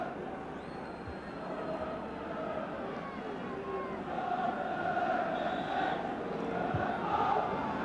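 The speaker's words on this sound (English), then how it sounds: "the crowd still angry" A large, restless football crowd roars and murmurs at Sunderland's ground during a match against Ipswich Town, its broad, angry din swelling louder toward the end, with scattered shouts and whistles.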